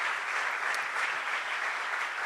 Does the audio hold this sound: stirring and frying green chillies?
no